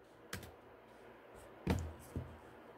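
Sparse computer keyboard typing, a few separate keystrokes and clacks, close and fairly loud against a quiet room, with no talking.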